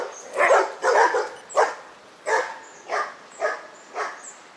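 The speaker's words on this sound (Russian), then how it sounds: "Ого! Какие собаки!" Dogs on a road in Mahé, Seychelles bark repeatedly, seven or so loud, close barks in an uneven rhythm, with no talk over them.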